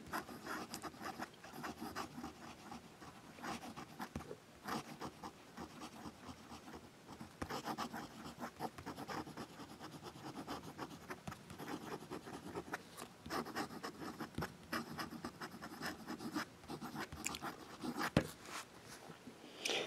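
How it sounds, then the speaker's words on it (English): A Wing Sung 3003 fountain pen nib scratching rapidly across paper, a close, continuous run of quick scratchy strokes with brief lifts and pauses between words. "now we're going to do some fast writing"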